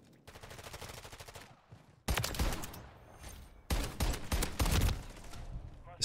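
Rapid automatic gunfire from a video game gun comes in loud, dense bursts. A quieter stretch of fire leads into two heavy, close volleys.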